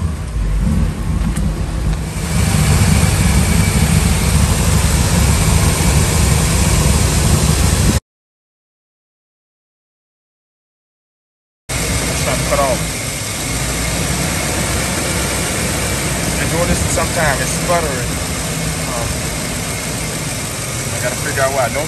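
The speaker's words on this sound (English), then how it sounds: "It tries to cut off, but it catches back idle." A Ford F-350 with the 5.4 engine idles roughly and unevenly, dipping as if about to stall before it recovers. The running is loud and close, with a brief cut in the middle and voices talking over parts of it.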